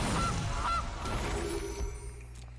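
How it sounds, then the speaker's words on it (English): Two short, distinct honks from the Gilded Goose card in the Magic: The Gathering digital card game ring out near the start over a steady layer of game ambience. "Play the Gilded Goose."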